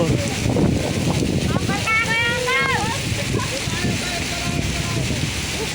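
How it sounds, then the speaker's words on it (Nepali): Heavy rain pours down outdoors at a Nepali bus stop, a dense steady wash of noise throughout, with voices talking over it and a brief whistling or squealing tone in the middle. "कत्रो पानी परेको।"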